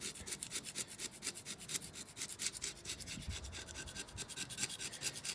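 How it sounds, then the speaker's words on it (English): A razor blade scrapes gunk off the block surface of a 6.0 Powerstroke engine in quick repeated strokes, a close, rhythmic scratching that continues steadily with no voices. "we're just gonna be using a razor blade to clean this up"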